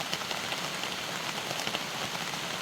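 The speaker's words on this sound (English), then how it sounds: "A lot of people like seeing camping in the rain." Steady rain patters on a surface at a wet, humid camp in Red River Gorge, a dense, even hiss of drops close by with no talking.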